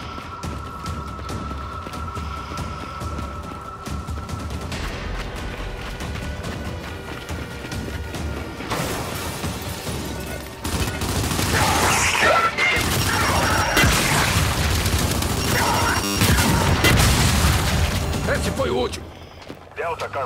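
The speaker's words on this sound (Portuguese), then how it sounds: "Opa, granada." A grenade blast in Gears 5 gameplay rips out mid-battle with loud crashing debris and rumble, layered over continuous gunfire and combat noise.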